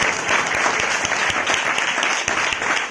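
A church congregation claps during a Sunday worship service, a dense, loud burst of many hands with steady close-up rhythm and no talking over it.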